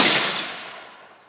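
A flintlock rifle, converted from caplock, fires outdoors at a barrel target: one sharp blast that decays over about a second of fading echo, with no voices.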